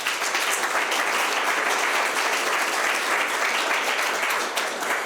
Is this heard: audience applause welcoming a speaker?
yes